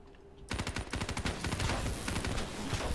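Sustained automatic gunfire rattles away at robots in a Black Ops 3 campaign mission, a rapid burst of close shots that starts abruptly and keeps up its steady rhythm.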